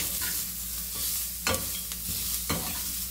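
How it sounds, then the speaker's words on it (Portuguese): Cabbage sautéing in a pan for a cabbage and carrot omelette, a steady close sizzle with spoon stirring scrapes and a few sharp clicks of utensils against the pan. "Vamos deixar aqui o repolho refogar."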